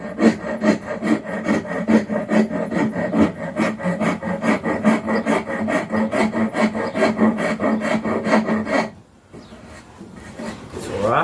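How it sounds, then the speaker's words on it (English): A wood rasp shaping a block of wood into a Native American flute, with loud, rhythmic back-and-forth rasping strokes that fill most of the clip, then a brief pause before the scraping resumes. "the rasp really does a really good job of taking off that excess wood"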